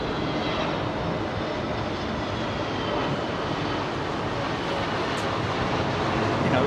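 An airliner comes in to land at Heathrow Airport, its engines a continuous, broad roar at moderate distance, with a voice faintly present beneath.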